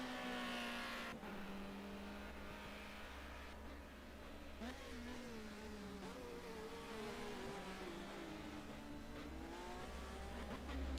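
Race cars lapping Oulton Park circuit in a touring car racing video game, engines droning and shifting pitch continuously with rising revs, loud and steady throughout.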